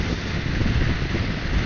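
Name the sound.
headwind noise while riding Orcal Astor 125cc motorbike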